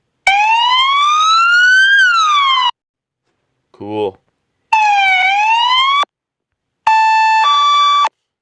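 Police siren tones played from a phone siren app: a loud wailing sweep, then a short burst, another wail and a steady two-tone warble, each sounding alone with brief gaps, plus a single short spoken word.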